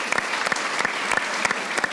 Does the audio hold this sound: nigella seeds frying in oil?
no